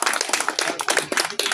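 Several people clapping in quick, uneven bursts at close range, a brief round of hand claps with no speech over it.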